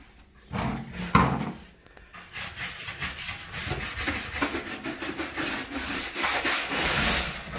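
A magic eraser sponge scrubs dirt off a wall, making rapid rhythmic rubbing strokes that grow louder and more continuous as the scrubbing goes on, with no talk over it.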